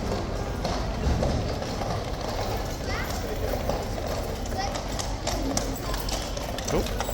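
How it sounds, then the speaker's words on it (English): Horse hooves clip-clop steadily as mounted lifeguards ride past on a street, a continuous rhythmic clatter under a busy crowd murmur with people talking nearby. "Oh, it's the horse that was in the box."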